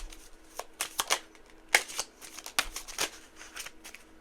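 A deck of tarot cards being shuffled by hand, a series of quick riffling bursts and sharp card snaps in an irregular rhythm, close and clear with no talking.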